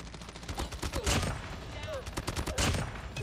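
Rapid bursts of automatic gunfire from the mobile shooter Call of Duty Mobile, in ranked multiplayer on the Highrise map, crackle continuously and loudly throughout, with voices faintly mixed in.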